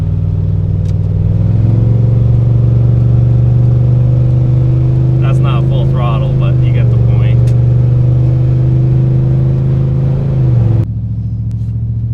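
A 454-powered Chevy OBS tow truck idles with a heavy low drone, and a passing car can be heard faintly for several seconds. The engine noise cuts off abruptly near the end.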